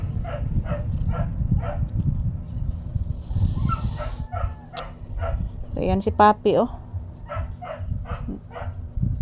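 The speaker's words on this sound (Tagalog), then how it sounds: "Nakikinig po siya sa aso na umiiyak." A sleepy puppy makes a series of short, repeated whimpers and yips close by, spaced irregularly over several seconds, while a person talks throughout.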